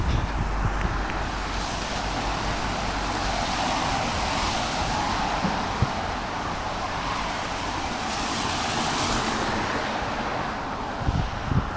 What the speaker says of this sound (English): the wind's blowing in my face all the way out